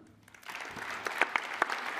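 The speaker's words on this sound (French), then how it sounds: "Je vous prie de bien vouloir applaudir comme il le mérite." An audience at a formal municipal gathering claps, starting quietly and swelling into steady, moderately distant applause with a few sharper individual claps standing out.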